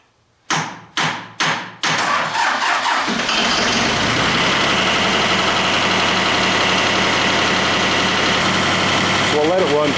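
A John Deere 1050 diesel tractor engine gives a few heavy cranking thumps, then catches and settles into a steady, loud, close-up idle that runs continuously to the end.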